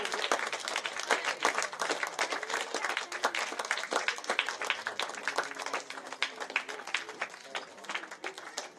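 An audience at a Sankranti celebration's closing-ceremony ball game claps loudly and continuously, dense rapid applause with voices mixed in.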